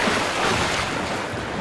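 Steady rush of water and waves in The Last of Us Part II, a continuous loud wash with no talking.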